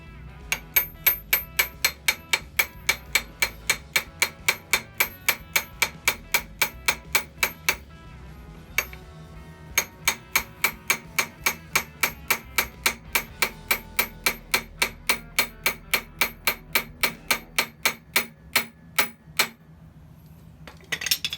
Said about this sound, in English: just take my little hammer here